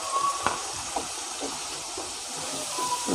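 Spices, chili powder and turmeric sautéing in a pan for an egg dish, a constant soft sizzle and hiss with faint clinks and light scraping of a utensil.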